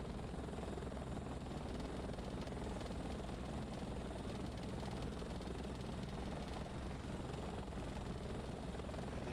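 Bell 412 helicopter in the X-Plane 11 flight simulator, its rotor and turbine drone steady and loud for the whole stretch, a dense continuous roar with no break.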